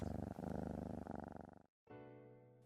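A cat purrs close up in a steady, loud rhythmic rumble with pulsing breaths, then breaks off briefly and resumes as a smoother, more tonal purr.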